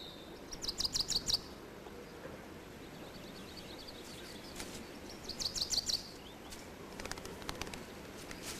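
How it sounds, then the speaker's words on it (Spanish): Small birds chirping outdoors in quick bursts of high, rapid tweets, some close and some farther off, separated by pauses over a quiet ambient background. "Los pequeños pájaros también pueden sentirse atraídos por la calavera."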